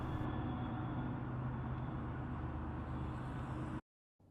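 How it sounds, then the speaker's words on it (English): Steady, loud traffic rumble fills the air at a birding spot near a busy road and a train station, a continuous dense roar with no distinct passes, before cutting off abruptly. "there's a lot of traffic noise and noise from the nearby train station at this location"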